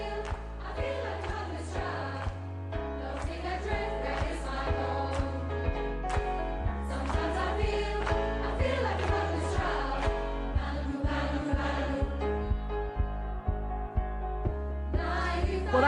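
Choir of refugees and migrants based in Greenwich singing together with accompaniment, a full, dense, continuous sound that stays loud throughout, with no talking.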